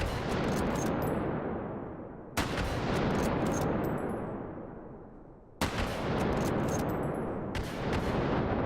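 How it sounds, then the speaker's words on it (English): A Mosin-Nagant M38 rifle fires at barrels in a VR game, three loud, sharp reports a few seconds apart, each fading into a long rumbling echo, with faint clicks of the bolt working between shots and no speech. "So I'm going to fire off a couple more."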